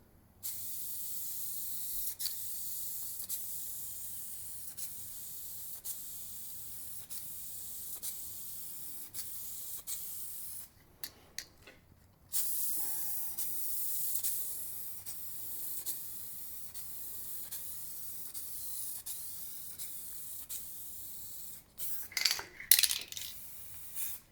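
A spray paint can hisses steadily onto vinyl in long, even passes, a continuous airy spray broken by a brief pause before it resumes, ending with a few short bursts; no one talks.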